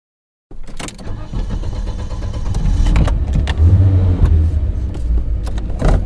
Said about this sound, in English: Cece and I jump into her black Porsche SUV